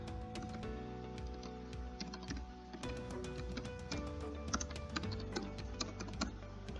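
Fast, steady key clicks rattle on a computer keyboard as C++ code is typed, close and fairly quiet, with dense overlapping taps and no voices.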